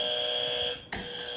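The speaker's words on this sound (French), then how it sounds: "vous avez des buzzers, est-ce qu'ils fonctionnent?" Quiz game show buzzers tested on a TV set, giving a steady loud electronic tone that drops out briefly near the end and then sounds again, with no talk over it.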